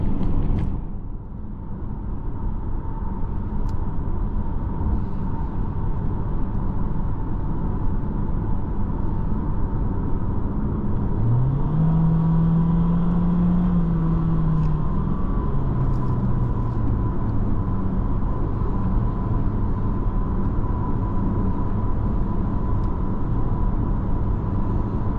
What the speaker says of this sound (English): you do hear that CVT whine. Pretty standard sound for a CVT.